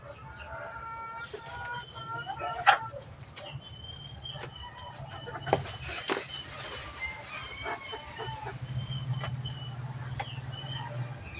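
Chickens cluck and squawk in a busy flock while being fed, with scattered sharper calls and soft rustling and clatter throughout, no speech.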